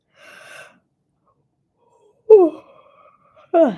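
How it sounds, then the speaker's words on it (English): A long, drawn-out yawn with a breathy, voiced rise and fall, followed by a shorter vocal exhale, close and fairly loud against silence. "Just felt like yawning right there"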